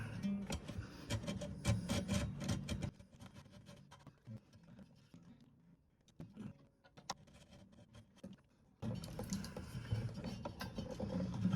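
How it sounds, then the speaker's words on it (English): Filing the nut slots of an Orangewood acoustic guitar, a faint, close scratchy rasping in quick bursts of strokes, pausing in the middle and then resuming. "When you're filing these nut slots, it's better to do a little bit at a time"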